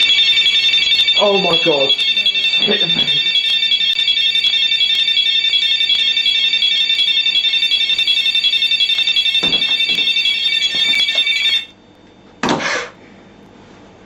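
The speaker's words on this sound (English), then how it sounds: "So if an energy breaks the beam, it sets an alarm off." A beam-break sensor alarm set up for a paranormal investigation rings loudly and continuously for about eleven seconds, then cuts off abruptly; people exclaim and talk briefly over it.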